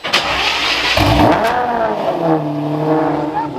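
A Lamborghini Murciélago LP640's 6.5-liter V12 engine revs hard and loud close by, the pitch climbing and falling in a sharp, high-pitched wail.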